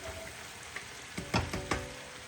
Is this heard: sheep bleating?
no